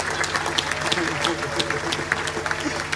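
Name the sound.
audience applause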